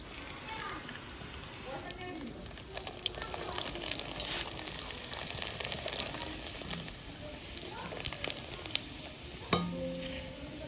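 Papad (poppadoms) sizzle and crackle in hot oil in a pan, a steady quiet frying hiss with scattered sharp pops, while people chat nearby.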